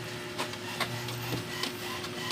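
An HP Ink Tank 315 printer at work, giving a steady mechanical whir with rhythmic clicks and ticks of the print head and paper feed, close and continuous, with no talking.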